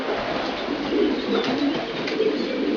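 Pigeons in a loft, with soft continuous cooing and occasional wing flaps, close and steady throughout.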